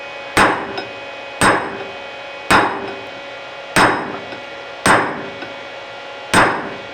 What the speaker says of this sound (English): I do use the air hammer to get it started